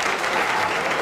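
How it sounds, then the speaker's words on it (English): A studio audience at a comedy panel game applauds in a brief, loud, even burst of clapping that lasts about a second. "Thank you for applauding my wisdom."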